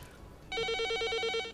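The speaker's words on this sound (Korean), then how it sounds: "사무실 전화가 울린다." An office phone at a Seoul crisis-pregnancy counseling hotline gives a single electronic trilling ring lasting about a second, clear and moderately close in a quiet room.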